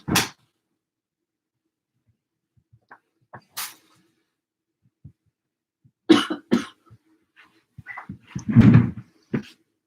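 A person coughs sharply up close, isolated barks at first, then a harsh cluster of repeated loud coughs and throat clearing near the end, with silence between.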